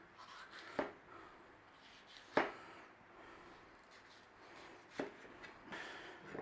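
A knife dices a small pepper on a cutting board, making a few sparse, quiet chops spaced irregularly, each one a short crisp tap against the wood.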